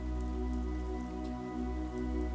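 Steady rain falls on a surface on a rainy day, with puddles nearby, a continuous even patter filling the scene close by with no voices.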